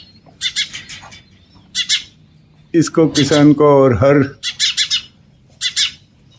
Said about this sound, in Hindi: देखो इधर गौरैया हैं